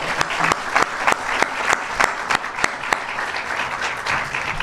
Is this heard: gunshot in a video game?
no